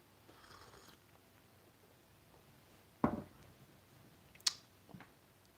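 A domestic cat purrs softly and close by, a faint low rumble broken by a few brief clicks and rustles.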